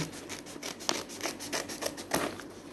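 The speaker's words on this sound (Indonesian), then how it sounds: "jadi kita pakai gunting ya kayaknya ngelihat packagingnya bagus sayang kalau eh, sobek" Scissors snipping through snack packaging, a quiet close series of crisp cuts and rustles in an uneven rhythm, with no talk.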